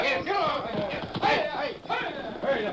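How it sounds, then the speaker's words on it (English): Horses unhitched from a wrecked stagecoach gallop away in a radio drama, their hooves beating in quick clip-clop bursts under a narrator's voice, moderately close. "unhitched the horses from the coach and sent them galloping away"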